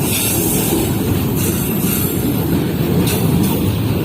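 A moving train rolls past at Dabheji, a loud, continuous rumble with steady wheel-on-rail noise and faint clatter, heard close with no voices.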